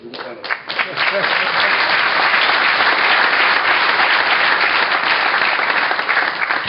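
Loud, dense audience applause fills the room at a political speech by a European conservative politician in Rome, rising quickly and holding steady as a continuous wash of clapping hands.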